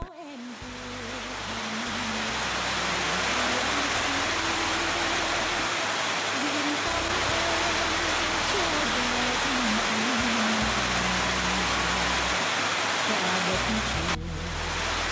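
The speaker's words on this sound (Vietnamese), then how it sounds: "vừa ngồi xuống là mưa đổ sầm sập." Heavy rain pours down steadily at an evening spot near Hà Tiên, a dense, even hiss swelling in over the first seconds and holding loud and continuous, with a low rumbling hum beneath.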